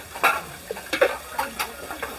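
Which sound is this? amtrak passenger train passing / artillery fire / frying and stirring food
frying and stirring food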